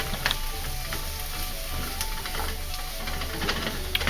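Onion, shallots and garlic sizzling in a pan for an Irish stew, a loud continuous frying hiss with faint clicks of stirring throughout, no talk.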